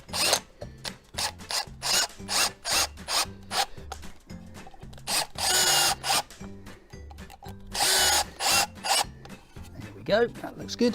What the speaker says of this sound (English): you need to then make sure you screw it firmly into position.